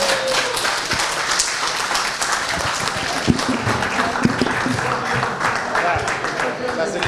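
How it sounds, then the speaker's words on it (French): An audience at a reform workshop applauds steadily, with dense, continuous clapping from many hands and a few sharper individual claps, fairly close and sustained throughout, with faint voices mixed in beneath. "Ça, c'est les Africains qui applaudissent là."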